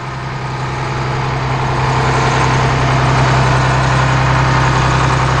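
A Cummins ISC 8.3 diesel engine rated at 260 horsepower idles in a 2003 Blue Bird All American school bus, a loud, close, steady low rumble that holds level throughout with no voices.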